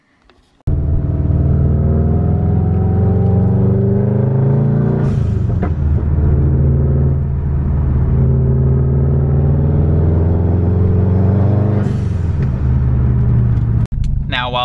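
A car engine revs up and drops off twice, each throttle release followed by a sharp hissing whoosh from a hybrid turbo blow-off valve, loud and close, with a brief voice near the end.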